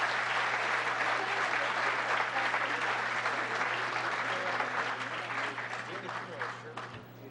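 A council chamber audience applauds a retiring councilmember with steady, dense clapping that holds loud throughout and eases slightly near the end, with some voices mixed in.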